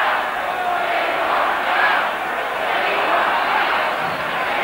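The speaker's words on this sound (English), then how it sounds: "there's the Brisbane chant of "We want Mal."" Rugby league crowd at a 1982 Australia versus New Zealand test in Brisbane chanting "We want Mal," a dense, steady roar of many voices filling the stadium with slight swells, no clear words standing out.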